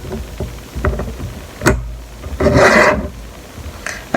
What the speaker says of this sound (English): rub them sometimes with an eraser